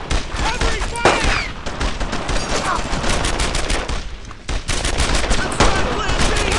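Dense, continuous MG-42 machine gun fire in Brothers in Arms, loud rapid bursts mixed with other gunfire and battle noise throughout.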